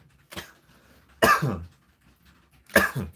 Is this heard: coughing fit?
yes